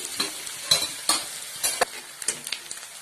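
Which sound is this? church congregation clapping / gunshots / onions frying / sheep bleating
onions frying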